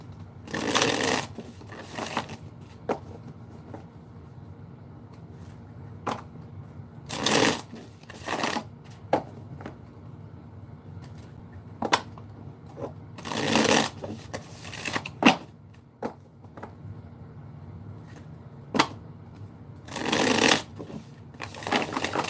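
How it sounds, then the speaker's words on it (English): Playing cards are shuffled again and again, each riffle a short crisp flutter, separated by quieter handling and pauses. "I love it when I can shuffle cards and they shuffle nice and easy"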